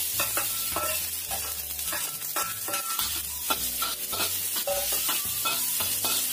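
Shallots and garlic sautéing in a pan with little or no oil, a close crackling sizzle broken by regular scraping strokes of a spatula against the pan, with no voices.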